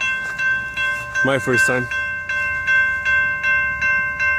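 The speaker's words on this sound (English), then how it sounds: "I've never heard this crossing activated before" An abandoned railroad crossing signal on a disused CSX line rings its bell in a steady, evenly spaced clang, with a sustained electronic tone beneath it; a person speaks briefly partway through.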